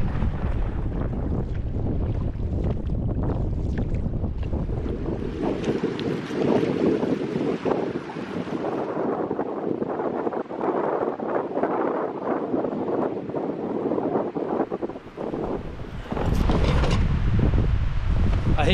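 Strong wind at a lakeside campsite buffeting the microphone with a loud, continuous roar and rumbling gusts, steady throughout and briefly easing in the middle, with no talking.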